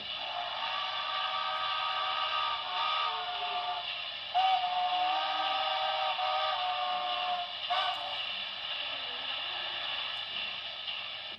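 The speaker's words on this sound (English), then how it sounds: "F25 is long whistle." A Broadway Limited Paragon3 light Pacific model steam locomotive sounds a long, continuous whistle, a steady hissing, airy tone with slight pitch wavers held for the whole stretch, loud and close.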